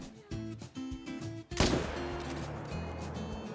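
A single loud, sharp rifle report rings out at a Cape buffalo in a hunting video game, cutting through quieter tonal background game sound and leaving a lingering echoing tail.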